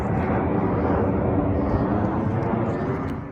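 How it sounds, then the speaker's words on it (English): A continuous low roar of an airplane passing overhead under a flight path fills the whole stretch, steady and broad, fading slightly at the end. "You'll also hear a bunch of planes."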